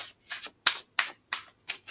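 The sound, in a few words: tarot cards being pulled from the deck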